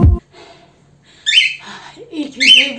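A nearby bird gives a few sharp, loud squawking calls in separate bursts, with short quiet gaps between them.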